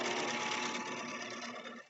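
Close, steady whirring of a sewing machine running continuously through a back-tack on a simple beginner's pillow, loud and unbroken for the whole moment.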